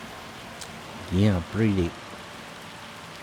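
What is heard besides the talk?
hailstorm rain in Farming Simulator 25 video game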